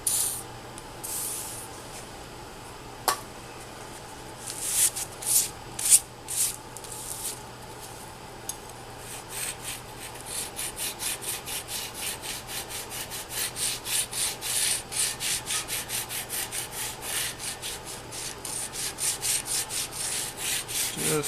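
Hand scraping on the cast-iron column end of a Bridgeport milling machine, with scattered scrapes and knocks at first, then a long steady run of rapid rhythmic scraping strokes, close and fairly loud, with no voices.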